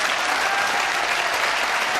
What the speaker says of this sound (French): Applaudissements pour nos amis de la confrérie